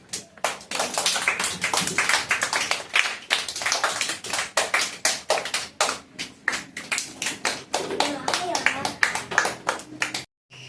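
A classroom group claps for a student receiving a small prize, a dense burst of hand claps running about ten seconds with uneven swells before stopping abruptly.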